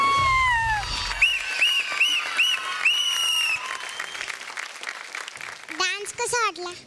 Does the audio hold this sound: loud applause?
yes